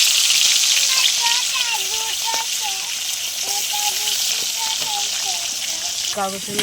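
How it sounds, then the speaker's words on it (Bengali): Tengra fish fry in hot oil in a pan with a bright, steady, crackling sizzle that fills the whole stretch, while a voice talks faintly underneath. "ট্যাংরা মাছগুলো ভেজে নিচ্ছি"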